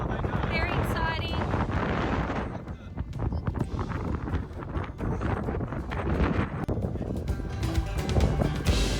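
Strong wind buffets an open microphone near the northern tip of Cape York, a loud continuous roar with gusts under a voice and other outdoor noise.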